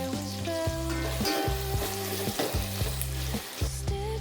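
Onions sizzling and frying steadily in a pan for a beef curry, a continuous close crackle with no talk, over a steady low hum.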